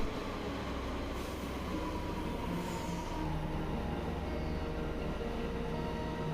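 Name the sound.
Delhi Metro train arriving at station platform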